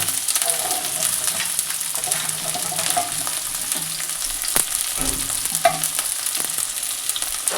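Onion, garlic, tomato, capsicum and chilli frying together in hot oil in a kadai, a loud, continuous close sizzle with occasional stirring scrapes and clatter, no talking.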